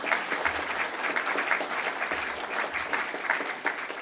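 An audience at an awards ceremony gives a sustained round of applause, dense steady clapping filling the whole stretch, heard from within the hall with no speech over it.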